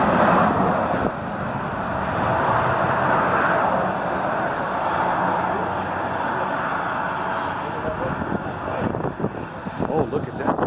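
A continuous broad roar of a large airplane heard from a distance outdoors, mixed with wind buffeting the microphone and holding fairly steady throughout.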